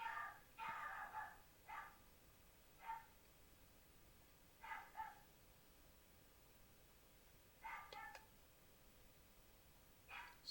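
A dog barks in short bursts, about six separate volleys of sharp yaps and barks spread out with pauses between, at moderate distance against a quiet, faintly hissy room.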